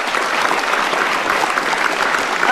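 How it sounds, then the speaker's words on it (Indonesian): Studio audience applauding on an Indonesian talk show, a dense, steady wash of clapping filling the whole stretch with no voices over it. "Boleh diberikan tepuk tangan."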